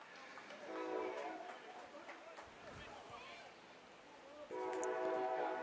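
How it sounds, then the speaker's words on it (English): A Prescott train passes in the background during a baseball game and sounds its horn in two sustained tonal blasts, one early and a louder one near the end, under quiet crowd and commentary talk. "Hear the train in the background there."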